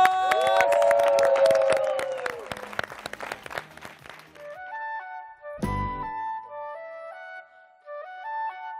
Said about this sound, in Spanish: con todos ustedes, arriba ese aplauso, ¡Tacones Rojos!